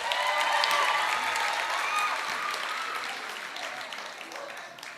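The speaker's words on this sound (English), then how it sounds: "Can we give them one more round of applause?" At a graduation ceremony the audience gives a round of applause, a full, even roar of clapping with a few faint voices mixed in, tapering gradually.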